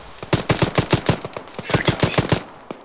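Sustained automatic gunfire in a military video game featuring a BTR armored vehicle, two rhythmic bursts of roughly eight to ten sharp rounds each, separated by a short gap, close and loud with no talking.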